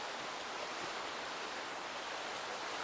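Clear stream water flowing steadily through Yongjangsa valley on Namsan mountain, a continuous, even rush of running water that stays fairly soft and unbroken throughout, with no voices.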